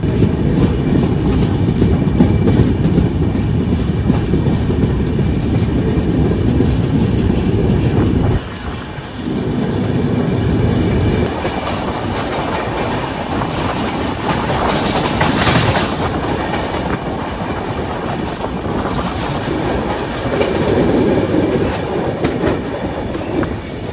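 The Grand Trunk Express runs on rails in India, a loud continuous rumble with rhythmic clatter of wheels over joints, heard steadily from on board.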